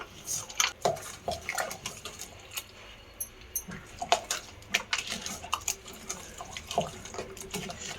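Cooked greens and dal being mashed by hand with salt in a metal pot, making a string of close, uneven squelches, scrapes and clinks against the vessel, with no voices.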